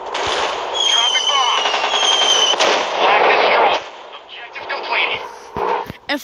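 In a WW2 dogfighting video game, dropped bombs explode in a dense, loud barrage of rumbling blasts and crackling bursts, with whining aircraft tones and voices talking over the action.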